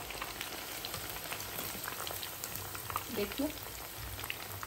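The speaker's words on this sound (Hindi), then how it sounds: "मछली के पीसेस को बैचेस में ही फ्राई करिए।" Delicate fish pieces deep frying in batches in hot oil, a dense continuous crackling sizzle heard close, with a brief spoken word over it.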